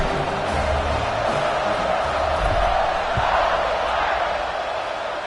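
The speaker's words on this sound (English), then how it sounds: "They're set to kick it off, and this crowd now ready to get behind them." A large American football stadium crowd roars as the teams line up for a kickoff, a constant loud wash of cheering and shouting that holds steady throughout with no break.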